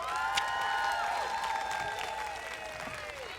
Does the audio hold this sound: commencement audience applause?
yes